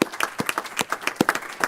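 Applause rises from the audience at a school board meeting: a handful of fairly close, distinct claps in an uneven rhythm, without the density of a large crowd.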